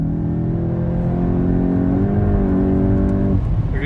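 A Volkswagen Golf GTI MK8 accelerates hard at high speed with wheel spin, its engine droning loudly and steadily with rising, then shifting pitch, heard close from inside the car.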